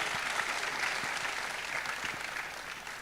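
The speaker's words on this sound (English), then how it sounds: "Please give him a round of applause." An audience at a leadership forum gives a round of applause, steady dense clapping at moderate volume, with a few sharper claps standing out near the front.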